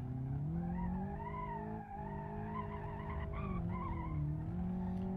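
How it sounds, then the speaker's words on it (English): Tires on a Hirochi Sunburst car squeal steadily in BeamNG.drive as it accelerates, a sustained, wavering whine that rises and dips over a continuous engine drone, with no voices. "Bit of tire squeals."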